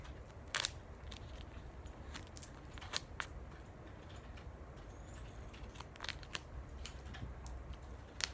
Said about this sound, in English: So I would take a piece and cut that piece in half.